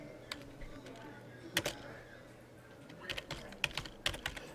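Scattered keystrokes on a computer keyboard as a Matlab command is typed, light irregular taps in small clusters close by, faint room hum beneath and no talking.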